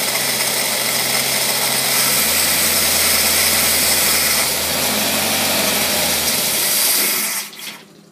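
A Ford single-barrel carburetor engine runs with the choke off, a loud, steady, rough drone that carries on unbroken before dropping off sharply near the end.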